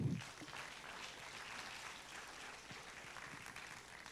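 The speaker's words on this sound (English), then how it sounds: "give yourselves a round of applause for that" Soft, distant audience applause in a hall at a tech entrepreneurship event, a steady even patter of many hands throughout, fairly faint.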